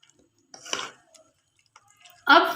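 Tomato and chilli paste being stirred into a chicken and potato gravy in a cooking pot: a couple of wet scraping, clinking stirs separated by quiet gaps, then a louder close spoon-against-pot scrape at the end.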